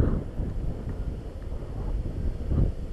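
Wind buffets the microphone during an outdoor bike ride in a steady low rumble, gusting louder now and then, with no other sounds.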